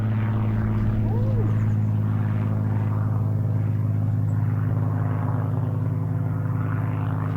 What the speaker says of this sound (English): up there is the Spitfire from Goodwood